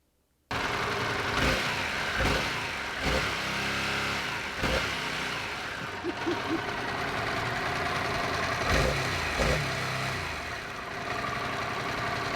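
A Harley-Davidson Pan America 1250 engine revs hard against its rev limiter in repeated rising bursts that fall back to a rough, throbbing idle. It is close and fairly loud, with no talking.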